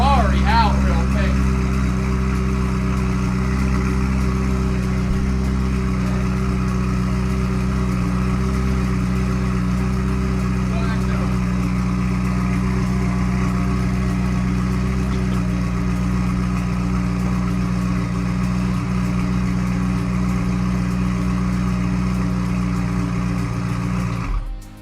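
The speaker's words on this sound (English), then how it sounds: "I gotta pull the Ferrari out real quick." A Ferrari engine idles at close range, a steady low hum with stable tones holding throughout, loud and continuous until it cuts off at the very end.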